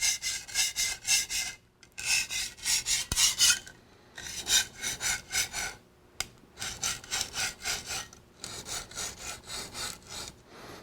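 A culinary knife drawn in repeated strokes across a sharpening stone, each rasping pass loud and close, in steady bursts of several strokes separated by brief pauses.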